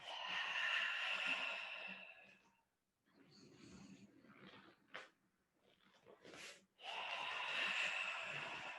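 Audible breath exhalations during a slow floor exercise, with long steady blowing breaths at the start and end framing a quieter middle with shorter huffs.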